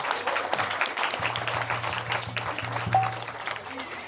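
Audience applause after a devotional stage drama, a crowd clapping steadily at moderate volume over a low sustained hum, with a few scattered taps standing out.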